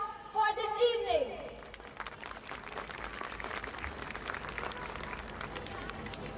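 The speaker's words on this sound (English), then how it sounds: "Please give a big hand of applause for this evening." Audience applause at a school annual day celebration, a broad steady wash of many hands clapping that follows a brief announcer's voice at the start, with faint crowd noise throughout.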